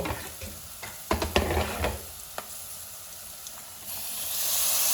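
Washed shrimp frying in a pan on a lowered stove, a steady close sizzle with a few louder clatters of stirring near the start, the hiss swelling toward the end.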